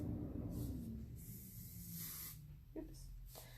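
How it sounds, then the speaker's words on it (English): Cheap hairspray is sprayed onto ferns in short pressurized hissing bursts, close to the mic, with a few separate puffs and a soft voice murmuring underneath. "We're gonna spray our ferns with hairspray."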